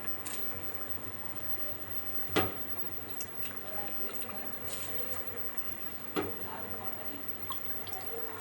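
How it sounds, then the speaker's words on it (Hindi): Rice for a yellow split pea pulao is tipped into boiling water in a home kitchen, giving a soft, steady bubbling hiss broken by a few sharp splashes and drips. "अब हम इसमें चावल ऐड कर देंगे।"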